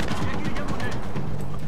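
Dense, continuous gunfire in Splinter Cell Blacklist's co-op opium farm mission, loud and unbroken for the whole moment, with game noise and voices mixed in underneath.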